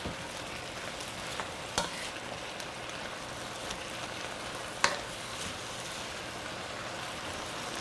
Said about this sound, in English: I'm going to let that stir a little bit until the carrots start to cook.